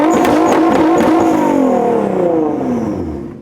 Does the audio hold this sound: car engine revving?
yes